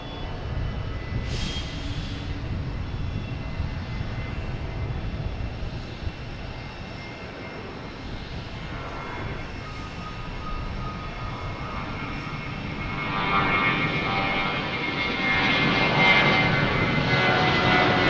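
An Airbus A319 takes off at Boston Logan Airport, its jet engines giving a steady, loud roar that holds for the whole stretch and swells louder toward the end as it climbs away, with no voices over it.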